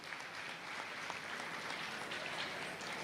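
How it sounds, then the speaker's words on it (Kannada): An audience applauds award-winning students at a school event, a steady, even patter of many hands heard from a distance at low volume throughout. "ಅವರಿಗೆ ಚಪ್ಪಾಳೆ ತಟ್ಟಿ ಅಭಿನಂದನೆ ಸಲ್ಲಿಸಿ."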